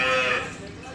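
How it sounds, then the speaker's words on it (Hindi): Nili Ravi buffaloes at Arif Wala livestock market in Pakistan, a single close, loud bellowing moo that fades out within a second over the murmur of the market. "बड़ी से बड़ी भैंस माशाल्लाह, आरफ वाला माल मंडी में मार अली शहर तुले के डेरे ते माल मौजूद खड़ा"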